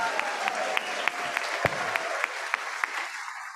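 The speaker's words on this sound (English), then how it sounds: "one big round of applause for these three gentlemen" A church congregation applauds three men in a steady wash of clapping that holds at even strength for several seconds before tapering slightly, with a few sharper individual claps standing out.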